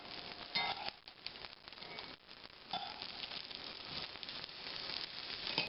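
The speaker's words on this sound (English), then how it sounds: "we're going to brown the onions" Onions browning in a shallow layer of oil in a pan, giving a steady, moderately quiet sizzle and crackle with occasional stirring clinks and brief surges.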